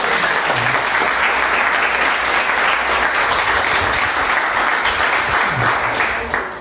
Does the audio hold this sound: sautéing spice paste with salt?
no